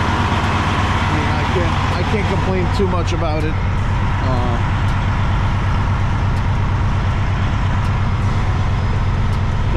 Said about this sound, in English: Freightliner Columbia bay cab. I purchased this truck about 2 years ago